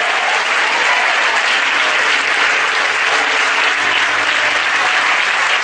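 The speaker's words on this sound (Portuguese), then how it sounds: "Agora aplaudir o Senhor" A congregation at a women's church seminar bursts into loud, continuous applause, thick even clapping holding steady throughout with no voices on top.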